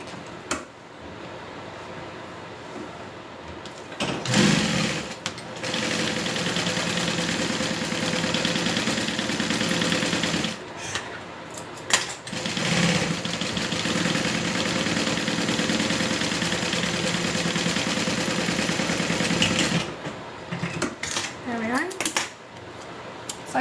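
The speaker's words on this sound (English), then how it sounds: "So I just sewed the two together." A sewing machine stitches two quilt fabric pieces together, its motor whirring in a steady, fairly loud run through most of the clip, with short pauses near the start and end.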